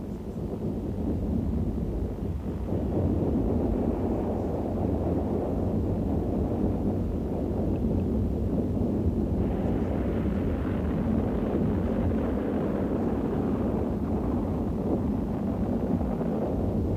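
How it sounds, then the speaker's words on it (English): Rocket engines ignite at liftoff in a Soviet space program setting, a broad continuous roaring rumble that holds steady and swells slightly partway through, with no voices. "All the engines ignite at liftoff, providing a thrust of over 170 million horsepower."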